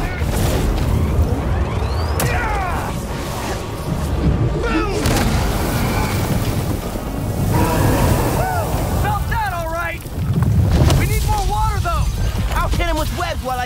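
Water sprays in a steady, rushing hiss during a Marvel's Spider-Man 2 fight against Sandman, loud and continuous with surging swells, while voices talk over it.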